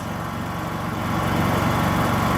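A Kraft & Dele KD 187 generator runs in eco mode, giving a steady, even engine drone with a faint low thrum that holds constant throughout, close by and alone.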